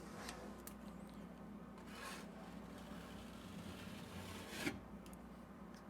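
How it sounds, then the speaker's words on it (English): A 6-inch knife scrapes excess spackle off a patched wall in quiet, rough rubbing strokes, with a slightly sharper scrape near the end. "We're going to wipe off the excess material."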